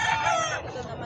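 Stag rooster crowing at a pet market, one loud close call with a drawn-out, fading tail over a busy background.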